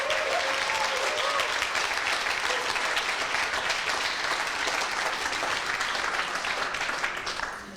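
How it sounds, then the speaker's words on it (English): A room full of audience members at a student demo day gives a long burst of steady, dense applause that stays loud throughout and tapers slightly at the end. "let's have a huge round of applause to congratulate them and encourage them"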